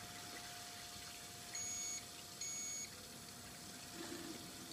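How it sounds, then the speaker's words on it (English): Two short, high electronic beeps from a PC fan controller about a second apart over a steady low hum and faint water-cooling pump noise. "So that's a fan controller beeping."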